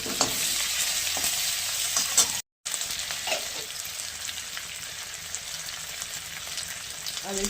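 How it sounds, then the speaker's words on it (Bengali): Cumin seeds and whole garam masala sizzle in hot oil with a steady, bright crackling hiss and scattered pops, broken by one very brief silent gap. "একটু জিরে দিলাম ফোড়নে, আর গোটা গরম মশলা দিলাম"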